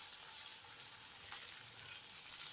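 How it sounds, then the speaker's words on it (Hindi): Finely chopped onions frying in a few spoonfuls of oil in a pan, giving a steady, soft sizzling hiss with a faint crackle throughout, close by and alone. "ताकि प्याज इसमें अच्छे से फ्राई हो जाए।"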